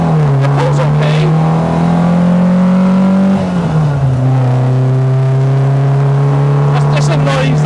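The engine of a cammed, carbureted Peugeot 205 GTi stage rally car drones and revs steadily as it climbs a hill. The pitch dips briefly midway, then holds, loud and close throughout.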